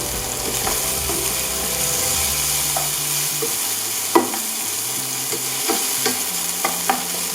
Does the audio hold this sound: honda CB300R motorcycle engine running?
no